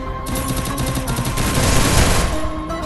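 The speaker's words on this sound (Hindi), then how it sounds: "आपका भाई MP40 लेके भाई बंदों के दरमियान घुस जाता है और उनको चेक करो किस तरीके से फिर हेडशॉट कराता है" An MP40 fires rapid bursts in the video game Free Fire as headshots land, a loud continuous rattle of automatic gunfire with sharp repeated cracks running through the whole stretch.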